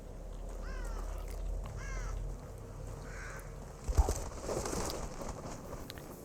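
Crows caw in The Evil Within, two or three raspy calls over a steady low game ambience, with a thud and some rustling noise partway through.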